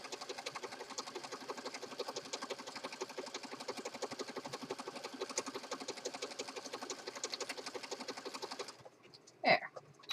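A sewing machine stitches through junk journal paper in a fast, steady mechanical rattle for most of the stretch, then stops, followed by a brief faint clatter.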